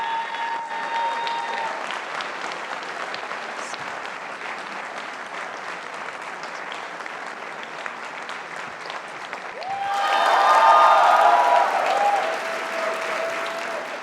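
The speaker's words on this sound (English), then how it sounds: "जोर से ताली बजाएंगे यार" A crowd at a film event for Rockstar applauds in a steady, even wash of clapping, swelling louder with cheering near the end before easing off again.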